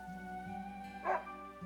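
A dog in the video game Another Code: Recollection gives a single short, soft yip over quiet, sustained background game music.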